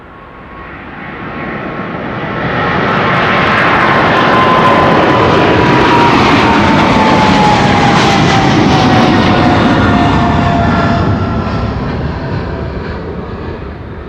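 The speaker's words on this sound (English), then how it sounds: "Coming this way, KLM flight 713 to Paramaribo," Loud, swelling jet roar of a KLM Boeing 777-300 departing runway 24 at Amsterdam Schiphol, building over a few seconds to a sustained peak with a falling engine whine, then slowly easing as it passes.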